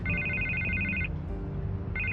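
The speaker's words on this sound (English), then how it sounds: "I can't get the phone to stop ringing." A telephone rings in Batman: The Telltale Series, an electronic warbling ring that sounds for about a second, pauses, then starts again, loud and close over a low ambient background.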